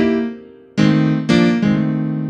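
Piano right hand playing a blues riff of a few bright struck chords over a ringing tail, close and clear with no voices.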